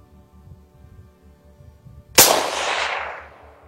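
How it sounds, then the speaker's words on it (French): A single sharp rifle shot cracks out close and loud from a rifle rested on a Bog shooting stick, its blast tailing off over about a second above a low background rumble. "Allez, on a fait nos 2 balles avec le Bog."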